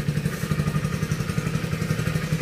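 A motorcycle idling nearby while being turned around, with a steady chugging engine pulse and light clattering throughout and no voices.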